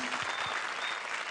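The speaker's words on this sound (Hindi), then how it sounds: "जोरदार तालियां" A studio audience at a televised comedy show bursts into loud, dense applause, many hands clapping continuously for the whole short stretch with a faint voice beneath.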